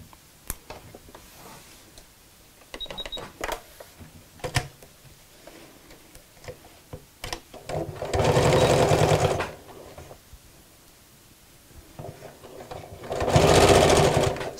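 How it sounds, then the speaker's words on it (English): A sewing machine stitches a backpack pocket closed in two short bursts, with clicks and handling taps between them and no talk. "I'm sewing that closed at the same time"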